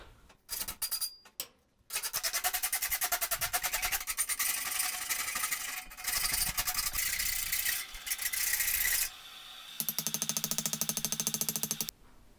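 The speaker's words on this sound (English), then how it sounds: "it just needs a little bit of filing to clean up and make it look pretty-ish" A metal file rasps over forged steel fireplace tongs in quick, rhythmic back-and-forth strokes, close and scratchy, coming in bursts with short pauses between runs.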